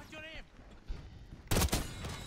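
Gunfire from the Black Ops 6 beta, a loud burst of several shots landing after a second and a half of quieter game noise, with speech-like sounds heard earlier.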